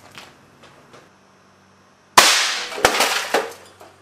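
An air cannon fires a glass marble into a toaster with one loud sudden blast and clattering impact, then a few more sharp knocks as the noise decays, after quiet faint knocks beforehand.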